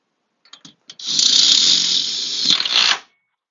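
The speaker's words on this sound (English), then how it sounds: "Attach the L bracket to the view wall start using the 3/4 inch framing screws." Power driver sinking a 3/4 inch framing screw to fix an L bracket to a view wall start for a swing door, a few light taps and then a steady high whir lasting about two seconds before stopping.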